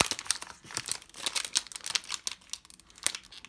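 A Pokémon Cosmic Eclipse card pack is torn open by hand, giving a rapid series of crinkly foil rips and crackles, close and fairly loud, heard alone.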